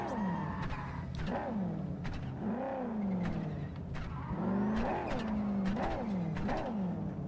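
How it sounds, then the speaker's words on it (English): Engine of the starter Nomad car in Cyberpunk 2077, a rough, beat-up sounding motor revving and dropping in repeated swells, loud and close with gliding pitch sweeps and no talk over it. "our starter Nomad car just sounds beat to shit"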